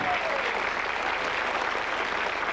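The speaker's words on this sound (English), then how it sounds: "Big round of applause for them both." Studio audience on the Blockbusters game show gives a warm burst of applause, dense steady clapping filling the room without a break.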